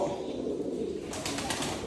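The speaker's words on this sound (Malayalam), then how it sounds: "ലോകത്തിലെ തന്നെ ഏറ്റവും വില കൂടിയ പ്രാവുകൾ ഉള്ള ഒരു ബ്രീഡാണ് കേട്ടോ റേസിംഗ് ബ്രീഡ് എന്ന് പറയുന്നത്" Racing homer pigeons coo softly in a low, steady murmur close by, under a constant background hum.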